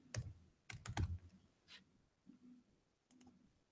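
Quiet typing on a computer keyboard while entering drawing details in SolidWorks, with a few clustered key clicks and taps in short irregular bursts, close to the microphone.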